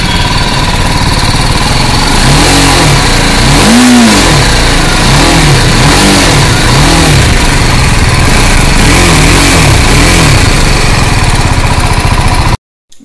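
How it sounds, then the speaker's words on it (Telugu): A BMW G310 GS motorcycle engine revving hard up close, loud repeated throttle blips rising and falling over a rough idle, cutting off abruptly at the end. "సూపర్ ఉంది ఎగ్జాస్ట్ నోట్"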